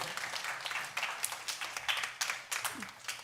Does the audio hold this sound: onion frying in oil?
no